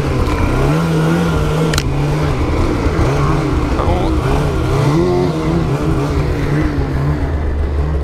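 A Polaris snowmobile engine drones loud and close, its pitch rising and falling as the rider alternates throttle and brake heading downhill, steady and continuous throughout.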